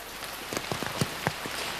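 Rain falls in the Monteverde cloud forest reserve in Costa Rica, a soft steady patter with a few sharper drops striking nearby surfaces over a quiet background.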